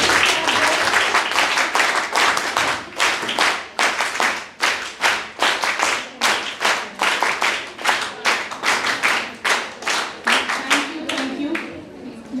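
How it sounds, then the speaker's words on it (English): An audience at an academic session claps together in a steady rhythmic pattern, about two dozen sharp unison claps at an even pace, loud and close, ending in a brief softer patter. "let's give a NSS clap for ourselves"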